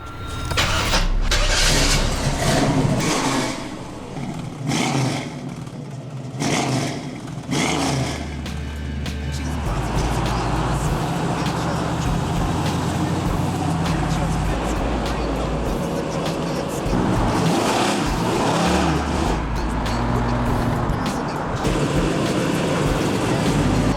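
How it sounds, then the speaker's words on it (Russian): A Chevrolet Chevelle SS muscle car with a 502 cubic inch engine fires up and settles into a loud, deep rumbling throb with revs rising and falling, heard close by while driving. "сейчас вы увидите тест-драйв нашего монстра, этого «Шевеля SS» с мотором 502 кубических инча"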